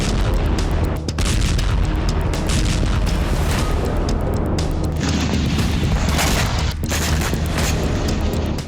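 Russian missile strike explosions in Dnipro, Ukraine, in a dense, loud, continuous roar of heavy booms with no clear gaps, saturated and distorted throughout.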